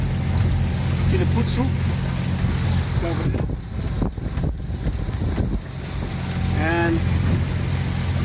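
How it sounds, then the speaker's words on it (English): A sailboat's engine runs in a steady low drone under heavy wind noise buffeting the microphone at sea, with someone talking over it. "the engine is on, a little bit support."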